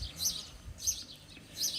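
Small birds chirp faintly outdoors in short bursts about every 0.7 seconds, with quiet background noise underneath.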